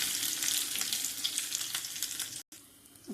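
Cumin seeds, chillies and curry leaves crackle and sizzle loudly in hot oil, a dense, continuous frying hiss that cuts out briefly and then resumes.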